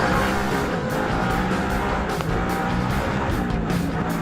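An off-road race truck driven hard in a TORC competition, engine roaring steadily with rough tire and dirt noise, loud and close throughout without talk.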